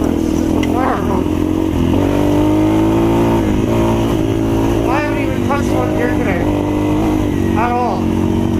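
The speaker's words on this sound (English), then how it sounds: "This is downright a thrilling motorcycle to ride." Modified, regeared and rejetted 2016 Yamaha TTR230 dirt bike ridden hard, the single-cylinder engine droning steadily and loudly, with repeated revving rises and falls as the rider shifts and accelerates.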